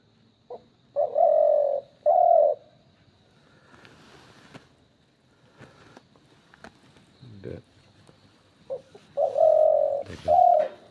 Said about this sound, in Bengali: তোমার শিকারি গুগুলো ডাকতেছে কেমন দেখেন